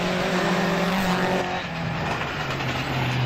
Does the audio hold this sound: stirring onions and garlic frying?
no